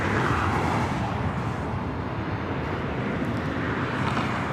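An ITA Airways Airbus A350 airliner at LAX, giving off a continuous heavy jet roar that stays loud and even, with a slight fade toward the end.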